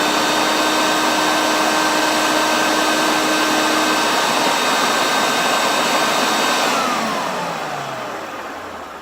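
A Hoover Turbopower 2 U2090 upright vacuum cleaner with its brush roll spinning gives off a steady, loud motor whine with a tonal hum. After about six seconds it switches off and the pitch falls away as it winds down.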